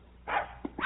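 A dog gives one short bark, followed by a couple of smaller, quieter yips, heard close and alone.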